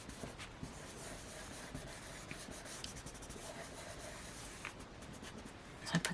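A pen scratching across a journal page, a soft continuous rubbing with small strokes up close, faint and quiet, with no voices.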